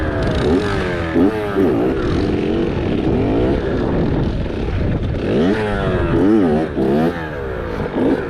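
An RM 65 mini dirt bike revs hard during wheelie practice, its engine note climbing and dropping in repeated throttle blips, close and loud, with voices faintly mixed in.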